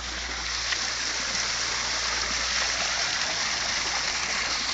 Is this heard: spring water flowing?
yes